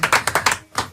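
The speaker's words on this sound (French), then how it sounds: "Applaudissements pour lui!" A television studio audience claps for a singer, a handful of sharp, distinct hand claps in a quick uneven rhythm, close and fairly loud.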